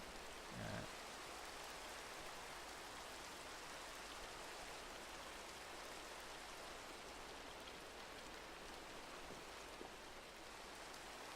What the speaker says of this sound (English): Rain! Oh, thank Christ.